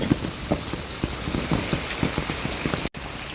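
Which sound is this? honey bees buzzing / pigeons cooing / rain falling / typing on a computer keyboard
rain falling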